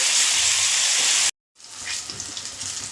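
Whole eggplants frying in oil, a loud dense hiss of sizzling that cuts out briefly and returns softer and more crackly, close up with no voices.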